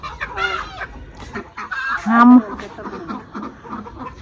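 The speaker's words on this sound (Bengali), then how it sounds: "আর জানবির জন্য আজকে মুরগ ধরা হয়েছে।" A native country chicken clucks and squawks in agitated bursts after being caught, loud and close, with a sharp louder squawk midway and faint voices nearby.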